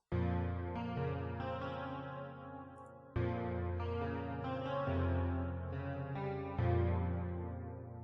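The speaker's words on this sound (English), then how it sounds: "If it's just a piano, it's going to sound like this." Sustained piano chords with a processed, chorused tone, three long held changes at moderate volume without any voices.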